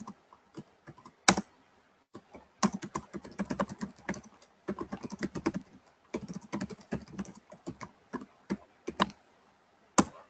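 Keys on a computer keyboard are tapped in quick, irregular bursts, close and crisp, with short pauses between runs of typing and no talking.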